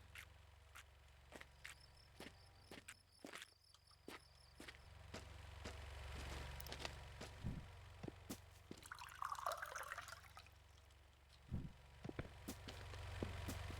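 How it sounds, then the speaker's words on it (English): Water poured into a watering can in the game Mon Bazou, a light trickle and drip that sounds more like filling a teacup, fairly faint among scattered clicks and soft background tones. "That sounds nothing like a watering can being filled and everything like somebody pouring water into a teacup."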